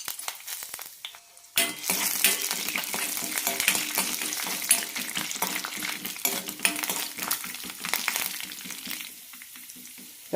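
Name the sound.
chana dal and peanuts frying in oil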